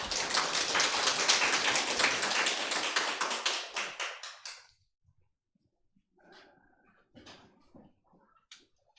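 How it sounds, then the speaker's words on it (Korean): Congregation in a church breaks into dense, loud applause for about four and a half seconds, then it cuts off abruptly, leaving a few scattered faint claps and soft shuffling noises. "우리 하나님께 영광의 박수 올려드리겠습니다."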